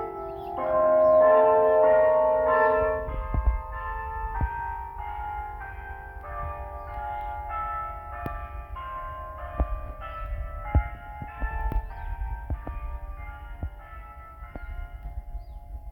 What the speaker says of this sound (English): thanks for listening to the capture of the sound of the bell ringing